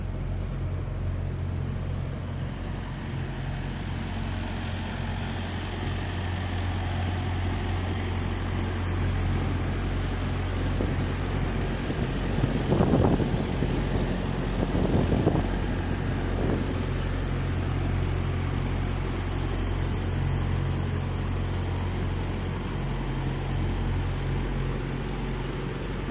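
A Freightliner semi truck cruises down the road, its engine and tire roar forming a steady, continuous drone from inside the cab, with a couple of brief louder bumps near the middle.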